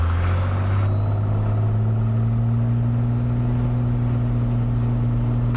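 A small plane's piston engine drones loud and steady during the takeoff run from Ruston, Louisiana, a constant low hum with a faint rising whine and no talking.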